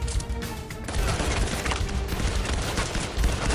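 Heavy gunfire in the VR shooter Firewall Zero Hour, rapid rattling shots and bursts packed close together, loud and near, running throughout with a few deeper impacts.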